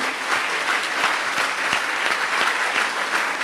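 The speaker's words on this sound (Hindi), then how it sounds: "अब सभी के सम्मान में जोरदार तालियां बजा दें।" An audience gives a loud round of applause at a Jain religious gathering, dense steady clapping from many hands filling the whole stretch without pause.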